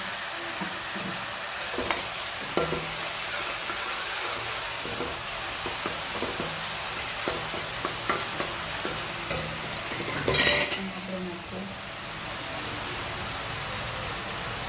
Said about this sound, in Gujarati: આમાં નાખીએ તો ડુંગળી ટામેટાં લસણ અને લીલા મરચાં સરસ અને સોતે કરી લઈએ